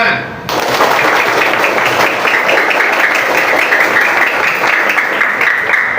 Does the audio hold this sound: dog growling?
no